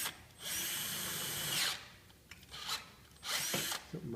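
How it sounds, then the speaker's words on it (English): A cordless right-angle power drill whines in bursts: a long steady run, a couple of brief blips, then another short run, close and loud with no talking. "90 degrees drills are awesome."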